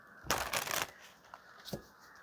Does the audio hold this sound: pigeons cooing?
no